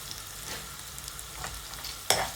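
Onions and curry leaves frying in ghee for a pineapple curry, giving a soft continuous sizzle with a few stirring scrapes and a sharper clatter near the end, with no voices.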